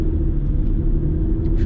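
A British Aston Martin DB9 Volante convertible cruises along, its engine a steady low rumble with road noise, loud and close, with no voices.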